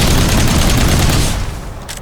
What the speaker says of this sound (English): I use my missile barrage